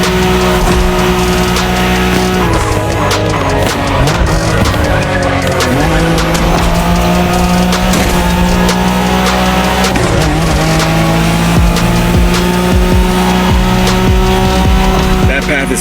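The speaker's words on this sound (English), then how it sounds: "The Skyline is an icon. It's a powerful car that takes skill to control." Tires on a Nissan Skyline race car squeal and skid in The Crew Motorfest, a loud continuous engine roar running throughout with pitch swings as the car accelerates and slides through corners.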